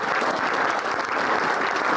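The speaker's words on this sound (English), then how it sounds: "put a round of applause for the guys from the Trust as well" Loud, sustained applause from a room of football supporters at the Sheffield Wednesday Supporters Trust AGM, honouring the Trust volunteers, runs continuously as an even, dense roar of clapping hands.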